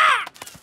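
Cartoon seagulls squawking at a campsite, a loud harsh descending call followed by a few short choppy squawks, close and alone.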